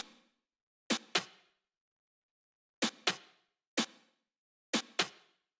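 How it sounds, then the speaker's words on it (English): Sharp, dry rim-shot clicks sound alone in short pairs and singles, crisp and close, separated by silence. "These are just these two little like rim shot type of sounds."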